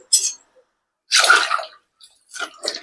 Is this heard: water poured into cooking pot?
yes